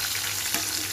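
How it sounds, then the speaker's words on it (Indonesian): Tempeh frying in hot oil gives a steady, dense hiss and crackle that is close and continuous, with no talk over it. "Lagi goreng tempe ya teman-teman."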